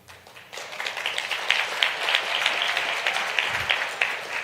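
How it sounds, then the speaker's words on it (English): A crowd at a five-year anniversary celebration claps steadily for staff members standing up, a dense, continuous wash of applause that swells quickly after a soft start and holds at an even level. "y'all just clap for people standing now"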